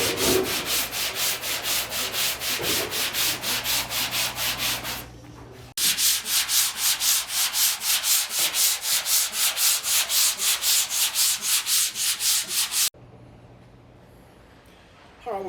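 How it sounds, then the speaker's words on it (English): A hand block sander works the bedside panel of a 1968 car body in fast, even back-and-forth strokes, loud and close, pausing briefly twice. "smaller block sander and I'll finish off areas like this"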